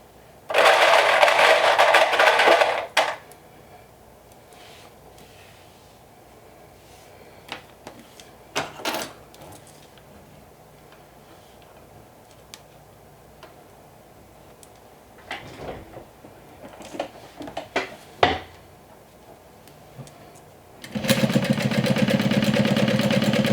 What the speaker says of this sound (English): now I'm placing it like this and I'm going to top stitch all around it